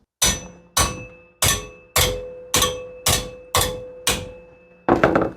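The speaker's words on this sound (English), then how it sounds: "That's going to take a hammer." Eight evenly spaced, loud metallic hammer blows bending a steel bracket on a 1936 Chevy truck build, each strike ringing briefly before the next, followed by a rougher clattering impact at the end.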